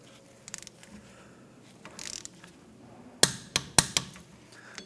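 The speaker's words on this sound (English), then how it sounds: "Now we're going to torque down these bolts. I'm going to torque them to 40 foot-pounds." A torque wrench tightens wheel hub bolts on a 2011-2016 Hyundai Elantra to 40 foot-pounds, giving a few faint metallic ticks followed by several sharp, loud clicks close by.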